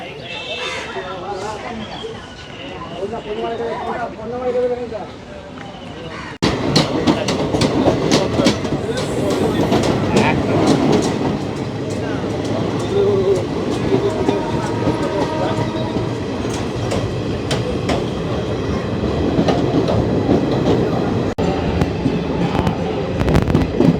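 Black Diamond Express (22387) running between Howrah and Durgapur, a steady loud rumble of wheels on rails with rhythmic clicks and rattling carriages; a voice talks over the quieter opening before the noise jumps up.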